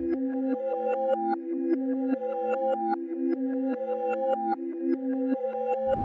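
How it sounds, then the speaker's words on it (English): Melodic sample pitched down three semitones and played in reverse, with swelling tonal notes that rise into abrupt stops, forming a slow, steady looping phrase heard alone without any talking. "pitched it down 3 semitones, and I reversed it"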